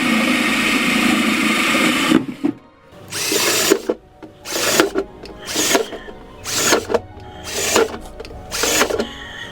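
A power drill with a 5/8-inch cutter whirs loudly in a long opening run, then bores holes in a series of short bursts with brief pauses between them.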